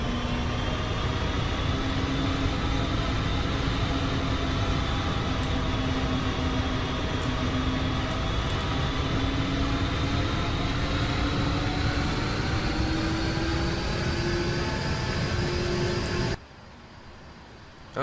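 Boeing 777 jet engines in the X-Plane 11 flight simulator give off a steady, loud whine and roar with a slowly rising tone, heard on their own with no talk, until the sound drops off abruptly near the end.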